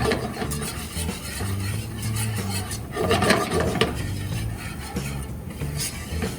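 A flour roux being stirred in a pot on a hot stove for lobster corn chowder, a steady scraping, rubbing rasp of utensil against the pan repeating continuously at close range.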